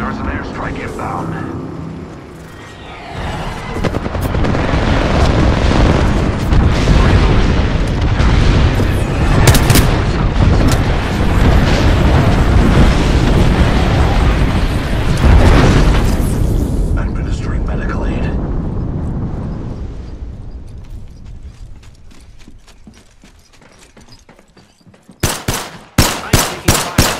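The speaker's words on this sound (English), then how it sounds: "There's an airstrike inbound." Airstrike in a shooter game: heavy rumbling explosions and booms mixed with gunfire, loud and sustained, fading to a quieter tail before a few sharp shots; a voice speaks in the game.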